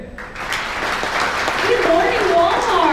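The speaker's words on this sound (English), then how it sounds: "give a round of applause" A crowd applauds steadily at a Walmart Supercenter grand opening in Lee's Summit, Missouri, growing slightly louder, with cheering voices mixed into the clapping.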